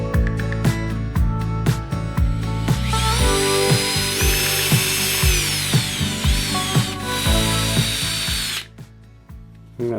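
Loud, continuous whirring and grinding of a power polisher buffing the case of a 1968 AWA Swinging Brick B60Y radio, the motor's pitch rising and falling as the tool presses against the case, steady for most of the stretch before dropping off.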